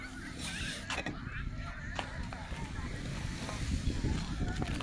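Waves wash in and wind blows along the eastern seafront of Rushan Silver Beach in early August, a steady, moderately loud roar with faint gusts and no clear voices.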